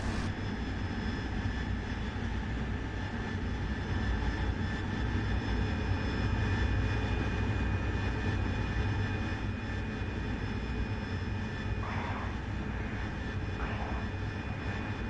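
A Harrier jet engine in a flight simulator game roars steadily and loudly throughout, a constant droning whine with sustained tones and no talk.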